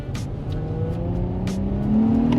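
Revving engine of a 2004 Infiniti G35 fitted with a Stillen Z tube intake, a steady mid-range drone rising in pitch toward the end as revs climb, with no talking.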